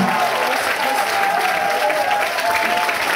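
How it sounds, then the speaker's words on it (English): Crowd at a live concert in Paris claps steadily, a loud continuous roar of applause filling the whole stretch without a break. "Can we have a big round of applause for Clemens?"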